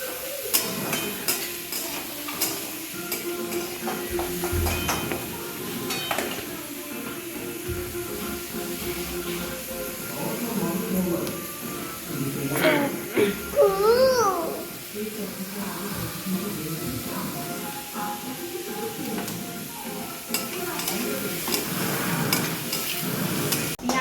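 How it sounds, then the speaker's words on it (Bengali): Onions fry in a pan with a constant sizzle while a utensil scrapes and knocks against it in irregular stirring strokes, close up, and people talk over the cooking. "দেখুন পেঁয়াজটাও ভাজা হচ্ছে"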